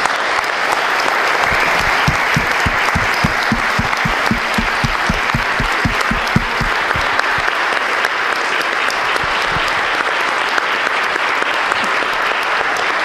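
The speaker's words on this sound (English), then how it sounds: "let's give her a big, huge round of applause" Sustained applause from a group at a retirement celebration fills the whole stretch, loud and steady with dense overlapping claps and a brief run of low rhythmic thumps early on.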